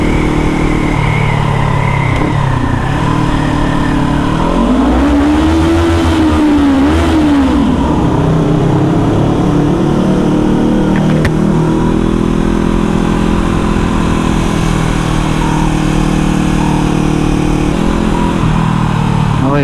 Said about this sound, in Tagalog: Try natin yung tunog ng muffler natin.